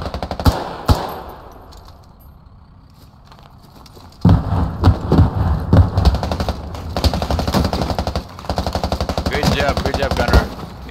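Automatic gunfire in the game Squad, rapid bursts of shots aimed at an enemy launch boat near a town, loud and sustained after a quieter opening, with voices on comms mixed in.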